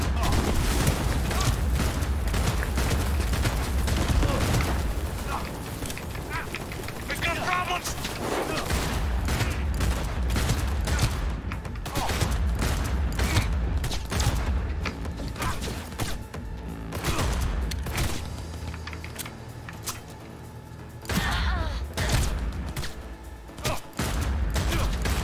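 Gunfire from the video game Cyberpunk 2077 rattles out in rapid, dense bursts and booms for the whole stretch, with a person talking over the combat at times.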